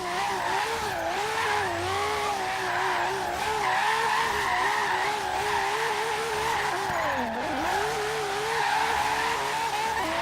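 A car drifts in Forza Horizon 3 under on-and-off throttle control, engine droning and wavering in pitch with continuous tire squeal, loud and close, dipping sharply once as the throttle lifts, with no voices.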